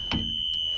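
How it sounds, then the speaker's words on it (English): Emergency exit door alarm on a school bus rings as a steady high-pitched electronic tone, close and continuous, with a couple of soft knocks from the door over it. "I'm going to open the door and make sure the alarm sounds."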